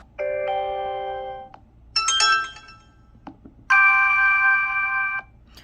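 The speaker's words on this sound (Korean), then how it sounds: "기본적인 알림음도 굉장히 잘 들립니다." Three short electronic chime tones from a flip phone notification play in sequence, each a clear ringing tone separated by brief pauses, crisp and close.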